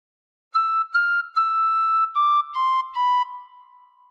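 Tin whistle playing a short melodic phrase, six clear breathy notes in a gentle stepwise run, the last one held and fading, solo with no talk.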